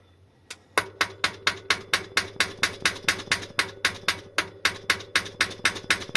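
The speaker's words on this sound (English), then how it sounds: "Using my very large hammer today." A very large hammer striking hub motor parts during a gear replacement on an electric bicycle hub motor: around twenty sharp, metallic blows in a steady, rapid rhythm, loud and close, with a faint hum underneath.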